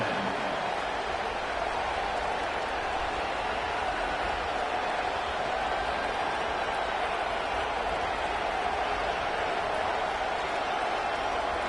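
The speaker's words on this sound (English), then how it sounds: "We knew this crowd would make its presence felt, and they are doing so in a big spot" Steady, dense roar of a stadium crowd at a college football game, loud and continuous with no gaps, a broad wash of voices and noise sustained throughout.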